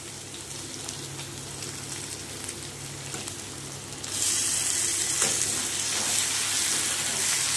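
Chicken pieces frying in a spice paste for mango chicken, a dense, rain-like sizzle that jumps noticeably louder halfway through and then holds steady, close and without talk.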